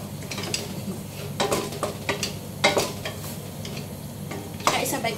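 A spoon stirs Greek baked orzo in a pan, giving repeated scraping, swishing strokes at close range with faint sizzling underneath and no voices.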